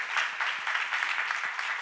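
A church congregation claps during a sermon, a brief burst of dense, even applause at moderate volume with no voices over it.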